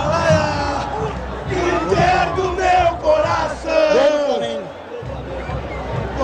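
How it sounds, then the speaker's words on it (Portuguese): A stadium crowd of Internacional supporters roars and yells after a Grêmio goal in Rio Grande do Sul, a dense, loud swell of cheering voices that dips briefly near the end and then resumes. "a torcida do Internacional vibra com o gol do arquirrival"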